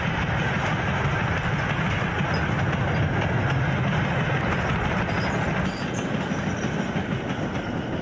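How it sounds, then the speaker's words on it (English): A Riddles 9A, a British Railways heavy freight steam locomotive, hauls an up through freight southward toward Preston. The wagons roll past in a continuous loud rumble with faint wheel clatter and no voices. "a Riddles 9A, the last heavy freight steam designed for British Railways speeds southward with an up-through freight"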